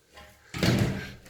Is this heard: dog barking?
no